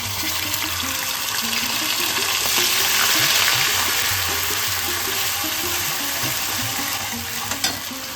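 Ginger paste frying in hot oil with spices gives a steady crackling sizzle with faint stirring scrapes, close and continuous, with no voices.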